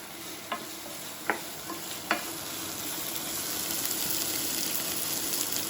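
Onions fry in a pan toward soft caramelization, a continuous gentle sizzle with a few sharp stirring scrapes early on, close and moderately quiet.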